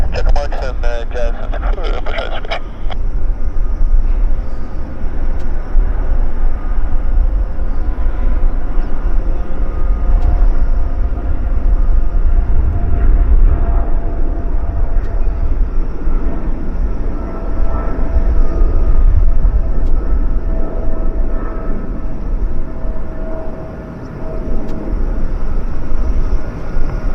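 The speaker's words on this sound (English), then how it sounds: "Q400 landing." A Q400 airplane landing at Vancouver Airport makes a broad, low rumbling roar that builds and lingers, while radio voices talk over it.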